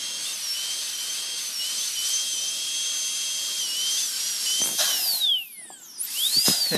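Dental drill whine trimming the edge of a temporary crown: a steady high-pitched hissing whistle, close and continuous, with shifting pitch and brief stops near the end.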